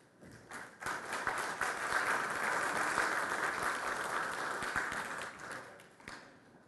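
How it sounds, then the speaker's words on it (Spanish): An audience at a legal conference on public officials' administrative, civil and penal liability applauds, sustained clapping of a sizeable crowd that swells quickly, holds steady for several seconds and then fades. "doctor César San Martín Castro, a quien vamos a brindar un fuerte aplauso"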